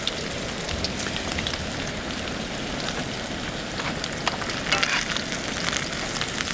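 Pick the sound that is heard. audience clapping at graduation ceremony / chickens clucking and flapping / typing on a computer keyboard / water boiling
water boiling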